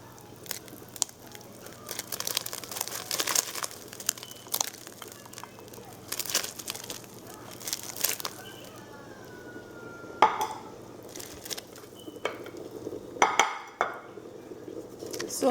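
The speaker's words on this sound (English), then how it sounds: "So now I'm going to add the egusi." Egusi going into a pot for egusi and ogbono soup, with scattered clinks of utensils on the pot, crinkling and stirring scrapes at moderate closeness, and no talk.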